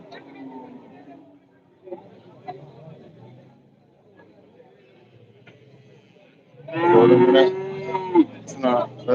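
Soft background murmur and faint sounds at a livestock market in Vaniyamkulam, Kerala, then a loud, drawn-out buffalo moo close by near the end, followed by a shorter call.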